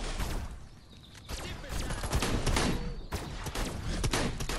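A disintegrator ray fires at a hay bale in the video game Destroy All Humans, giving a loud, dense, crackling blast that runs through the whole stretch with a few short breaks, while a voice talks over it.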